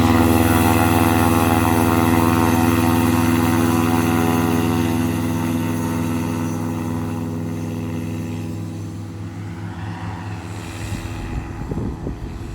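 A homemade light aircraft's engine runs loudly at takeoff from a grass field, a strong steady buzzing drone that gradually fades as it moves away, leaving wind noise at the end.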